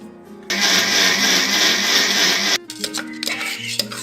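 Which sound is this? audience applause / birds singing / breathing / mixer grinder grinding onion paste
mixer grinder grinding onion paste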